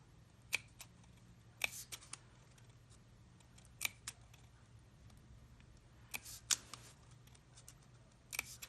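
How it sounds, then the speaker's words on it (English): Scissors making small snips into craft material for a rotating distress ink holder, a handful of crisp, sharp clicks spaced irregularly over a quiet room with faint background hum. "Just going to make a little snip on either side of that mark."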